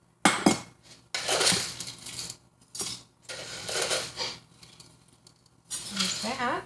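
Dried carrot dices are spooned into a jar for a Panamanian chicken and rice jar meal, giving several bursts of light clinking and rattling of spoon against glass, with a voice talking in between.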